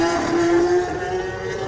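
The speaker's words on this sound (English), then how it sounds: "The revs are going up. The revs are going up." A Kawasaki superstock racing motorcycle revs loudly and pulls away from the start line at the Isle of Man TT superstock race, a close, sustained engine howl.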